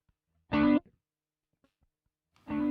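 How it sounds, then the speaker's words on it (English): Guitar through a Sonicake Levitate delay pedal with the time set to maximum: a distorted note sounds, cuts off, and a long pause later its echo returns at similar loudness. "So if I turn this all the way up, the time dial now, you'll see that it goes very, very long."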